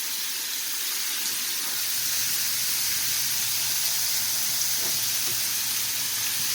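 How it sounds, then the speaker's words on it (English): Squid deep frying in hot oil in a St. Lucian-style kitchen, a steady, loud, continuous sizzle and hiss with faint bubbling and occasional utensil stirs, no talking. "Frying up some squid."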